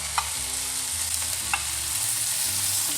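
Sankara fish frying in oil in a pan, with a steady close sizzle and a few soft clinks as it is turned or stirred.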